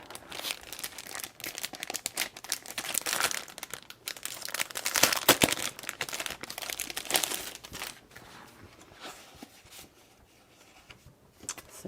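Paper pack from a vintage stamps journal box being handled, with steady crinkling and rustling of paper sheets that swells loudest in the middle and then fades to lighter rustles, close up with no talk.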